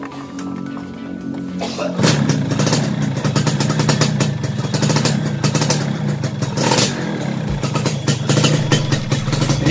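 A restored 2000 Yamaha F1ZR motorcycle engine cranks and catches after a quiet moment, then settles into a loud, steady, clattering idle that runs to the end.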